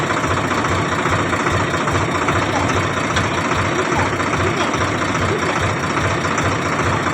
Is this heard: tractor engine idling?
yes